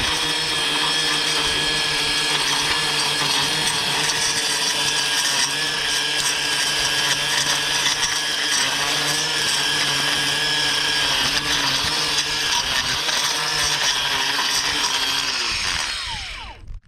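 A STIHL FCA 140 battery lawn edger cuts through thick clumps of Dallas grass and dirt, a loud continuous high whine that holds steady and then winds down abruptly at the end.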